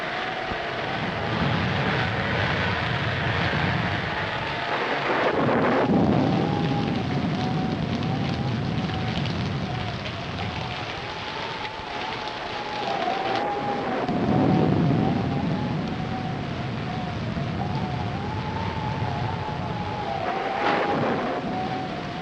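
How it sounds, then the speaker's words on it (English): A radio-drama storm effect roars on without a break: wind and a rushing, rain-like wash with slow surges in strength and a wavering whistle running through it. No voices are heard. "we'd better get out of here before this storm gets any worse"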